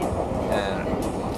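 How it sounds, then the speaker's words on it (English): Steady rumble of a moving train in Japan heard from inside the carriage, a continuous broadband roar with slight swells, no distinct clacks, and faint voices in the background. "So I'm on a train"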